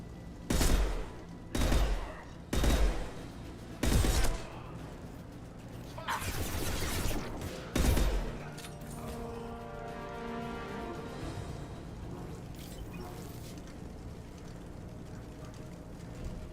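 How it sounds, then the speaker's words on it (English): Gunfire from a Mass Effect 2 firefight in which Blue Suns mercenaries and Vorcha are shooting: five loud, evenly spaced bursts and a longer volley in the first eight seconds, then a fading, humming background. "The Blue Suns and Vorcha are shooting anything that moves."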